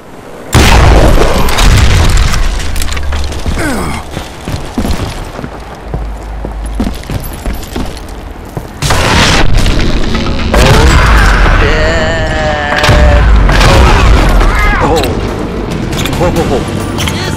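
Repeated loud dynamite blasts in the Western shooter Call of Juarez: Gunslinger, booming through a dense, sustained mix of gunfire and crashing debris, with a sharp rise in intensity partway through and a voice talking over the action.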